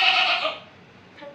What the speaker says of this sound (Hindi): बीच में आपका जो बकरा है वो भी आपको बर्थडे विश कर रहा है